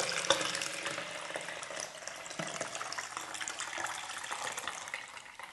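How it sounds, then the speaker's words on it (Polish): Liquid developer pours out of a black-and-white film developing tank into a sink, a steady continuous splashing stream lasting several seconds, close and fairly loud with no voices. "Otwieramy górę i zlewamy wywoływacz."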